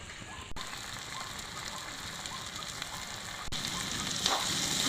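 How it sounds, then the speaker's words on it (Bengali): Oyster meat hits a pan of spiced tomato masala with a steady, close frying hiss that swells slightly toward the end, broken by a couple of brief clatters. "এবার এর মধ্যে দিয়ে দেবো ঝিনুকের মাংসটা এর মধ্যে এবার দিয়ে দেবো।"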